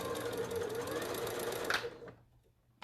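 A sewing machine stitches along the serged edge of a woven fabric, running in a steady close whir for about two seconds before stopping, followed by near silence and a brief noise at the end.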